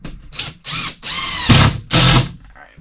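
Cordless power drill driving screws into drywall sheets in a small off-grid cabin, heard as several close, loud whirring bursts of about half a second each, separated by brief pauses.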